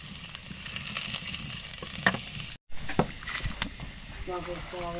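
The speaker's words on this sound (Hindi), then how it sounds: "कढ़ाई में मैंने 1 चम्मच ऑयल डाला है, ऑयल गर्म है। इसके अंदर डाल देते हैं 4 जवे लहसुन जो बारीक काट के मैंने रखी हुई है।" Finely chopped garlic hits hot oil in a kadhai, sizzling and crackling with scattered spits and pops, a brief dropout in the middle, and someone speaking over the frying.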